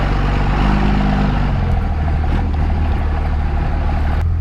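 A truck engine rumbles loud and close as the vehicle moves over a bumpy trail, a continuous low drone with small jolts, no voices.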